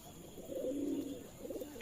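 Rajshahi Giribaz pigeons cooing softly, one low rolling coo rising and fading in a short burst at moderate distance, with no talk.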